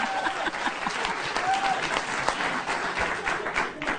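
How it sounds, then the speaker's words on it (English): A television studio audience on a late-night comedy talk show bursts into sustained applause, a dense steady clapping that fills the whole stretch with crowd noise and no clear talk over it. "They're applauding that."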